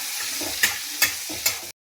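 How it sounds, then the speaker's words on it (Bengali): Onions frying in a pan, a steady close sizzle with three sharp stir scrapes before it cuts out abruptly near the end. "পেঁয়াজটাকে আমি একটু ভাজা ভাজা করে নেবো"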